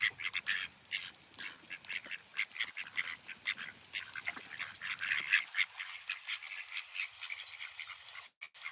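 Several ducks quack repeatedly at close range in busy, overlapping bursts, the calls continuing alone without talk and ending with a few sharp bumps.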